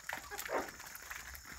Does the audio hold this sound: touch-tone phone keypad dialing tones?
no